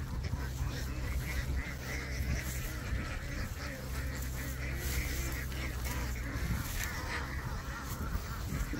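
Steady honking and quacking rises from a big farm flock of more than a thousand laying ducks. The overlapping calls form an unbroken chorus, and a faint murmur of human activity may sit beneath it.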